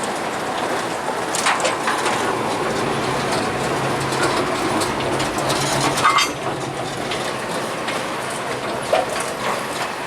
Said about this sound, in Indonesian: itu ada kereta yang mengarah ke arah Pondok Joyo itu